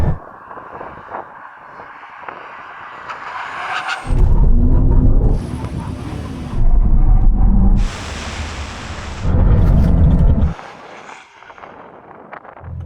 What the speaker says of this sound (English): We'll reach the line full emergency stop.